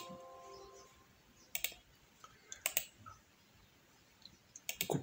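Sharp computer mouse and keyboard clicks during copy and paste in a spreadsheet, several separate close clicks in small clusters over a quiet background.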